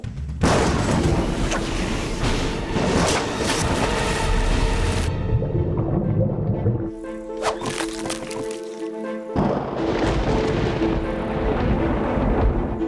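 Cartoon thunder from lightning rolls in loud booming crashes, dropping briefly to a quieter rumble midway before surging again, close and dominant.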